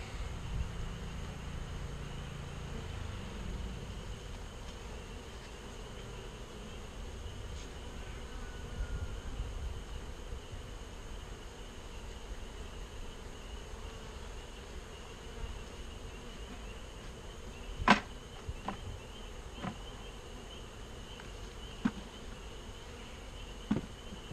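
Honey bees buzz steadily around a honey-soaked paper napkin during beekeeping, a continuous low insect drone with a few sharp clicks near the end and no talking.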